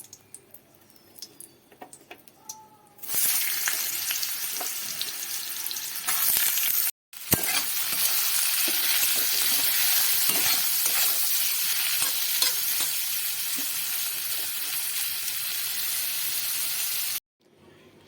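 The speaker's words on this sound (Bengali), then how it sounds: "আলুগুলো বেশ ভালো করে ভাজা হয়ে গেছে।" Potatoes fry in hot mustard oil in a wok, giving a steady, loud sizzle that starts abruptly and runs for about fourteen seconds with a brief break. There is no talk.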